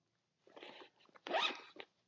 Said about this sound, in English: It has a zipper on the outside for some, it's not deep, but it is long.